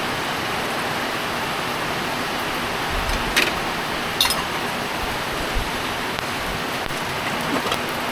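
Heavy rain falls in a steady, even hiss, with a few brief louder splashes or knocks partway through and no talk.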